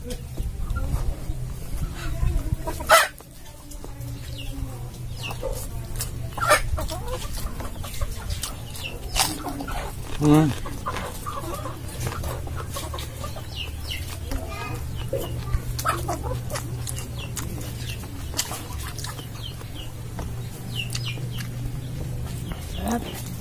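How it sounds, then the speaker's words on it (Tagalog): Farm chickens cluck and call at close range in scattered, irregular bursts, with people talking throughout and a few sharp knocks breaking in. "makulit yung manok eh."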